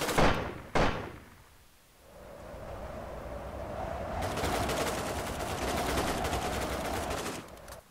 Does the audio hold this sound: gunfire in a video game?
yes